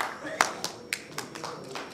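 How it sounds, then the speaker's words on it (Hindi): Scattered, uneven hand claps from an audience at a political gathering, greeting a party leader being introduced, a handful of sharp separate claps rather than a full roar over a low murmur of room noise. "ऐसे बड़े भाई हमारे आतिफ रशीद साहब के लिए भी जोरदार तालियां बजाएं"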